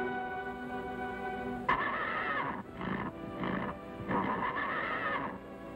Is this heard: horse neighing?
yes